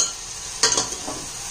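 Soybean pulao ingredients sizzle gently in a pan, with a steady soft frying hiss and a few light scraping stirs of a spoon against the pan.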